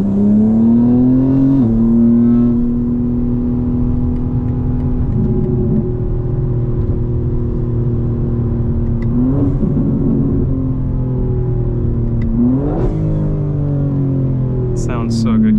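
A 2025 BMW M4 Competition driven hard, its engine droning loud and steady with several sharp rev rises and shifts, sustained throughout, with a voice talking over parts of it.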